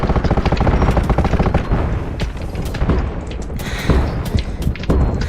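Sniper and other gunfire in the shooter game Undawn: loud, dense bursts of rapid shots and booming impacts that run nearly without pause, close and forceful.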